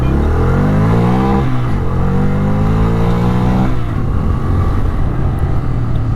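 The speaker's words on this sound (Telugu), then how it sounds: "ఎగ్జాస్ట్ సౌండ్ వినండి ఒకసారి." Bajaj Freedom 125 motorcycle running on CNG, its exhaust droning steadily and close, rising in pitch as it revs twice and then settling into a rough, even idle, with no talk.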